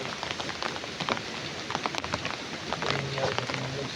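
Steady heavy rain pattering hard on a surface, a dense continuous hiss with scattered louder drops throughout.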